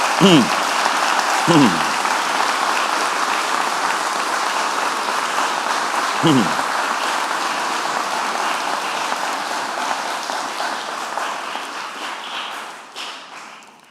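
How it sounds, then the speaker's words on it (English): An audience at a school prize-giving at Sussex House claps in sustained, dense applause that stays loud and even before slowly thinning out, with a few brief vocal sounds near the start. "I think we deserve our applause"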